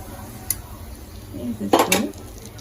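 A spoon scrapes and clinks in a bowl as oil is stirred into cucumber chutney (dosakaya pachadi), one light tap followed by a cluster of close, wet stirring clatters.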